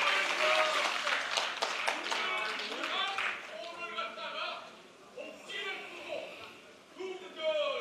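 At a Seoul city chapter party members' debate forum of the New Politics Alliance for Democracy, an audience bursts into brisk applause that fades after a few seconds as a voice speaks over the dwindling claps.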